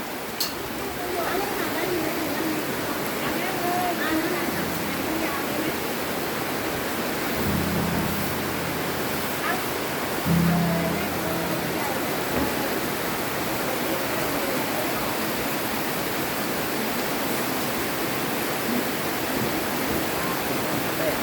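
Heavy rain pours down at the entrance to a boat pier. It makes a dense, even hiss that fills the whole stretch at a steady level, with a few faint low thumps midway.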